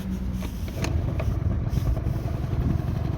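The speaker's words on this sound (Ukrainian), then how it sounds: "Перевіряємо кікстартер." A Honda Dio AF35 scooter engine, kick-started, sputters and runs steadily with a low, rough rumble and some mechanical clatter throughout.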